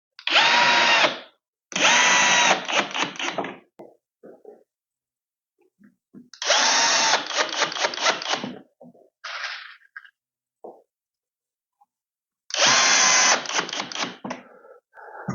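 Drill driving screws to fix a concealed cabinet hinge to a frame, three loud whirring bursts of about a second or two each, separated by quiet gaps with faint clicks and handling noises.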